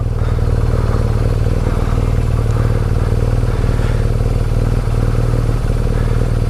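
A BMW R nineT motorcycle engine drones steadily and close while riding up a narrow hill lane in the Cotswolds, a loud continuous low rumble with faint clatter and no speech.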